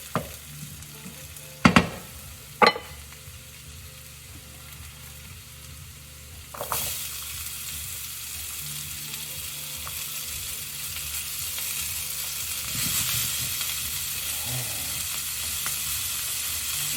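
Onions frying in a pan for a vegan breakfast, a steady close sizzle that builds and stays loud throughout, with a few sharp knocks of utensils against the pan early on.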